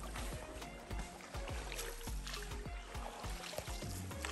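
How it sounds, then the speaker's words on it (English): Canoe gliding on calm water during a river safari in Northern Ghana, with soft paddle splashes and gentle water movement recurring steadily, fairly quiet and close, no talking. "So we're on a canoe safari right now"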